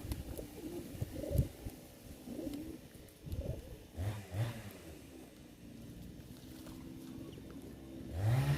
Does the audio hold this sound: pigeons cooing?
yes